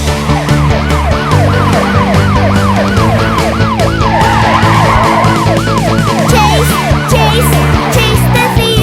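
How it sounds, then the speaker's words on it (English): Police car siren in a children's song, loud and close, a repeating wailing sweep that cycles steadily up and down over a backing of music, with a brief electronic warble near the end. "Chase the thief in my fast police car."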